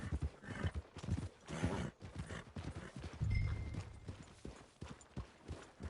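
A horse's hooves clip-clop in Red Dead Redemption 2, a steady close rhythm of hoof falls on the ground with a brief whinny and snort mixed in and no talking.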